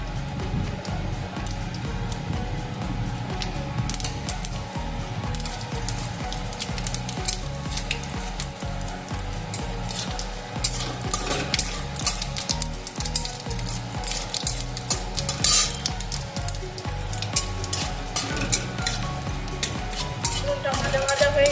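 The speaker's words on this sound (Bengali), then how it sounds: "আমি ফোড়নের যে মশলাগুলো নিয়েছি এগুলো এখন আমি দিয়ে দেব" Whole spices crackle and sizzle in hot oil for an aloo phulkopi dalna, a potato and cauliflower curry, with a dense, constant frying hiss, scattered pops and occasional utensil scrapes close up.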